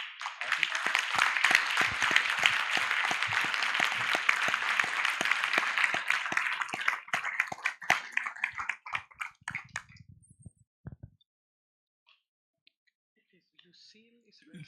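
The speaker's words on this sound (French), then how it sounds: "C'était des applaudissements pour l'énergie qu'on vient d'entendre, de voir" Applause from a plenary congress session audience, dense and sustained for about seven seconds, then thinning into scattered claps and fading to near silence.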